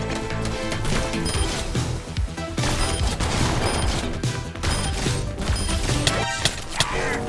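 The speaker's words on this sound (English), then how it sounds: "I picked up 2 miniguns on the map. Let's test this gun out." A minigun fires in a first-person shooter video game, sustained and loud, with rapid crackling bursts that briefly break off and resume over several seconds.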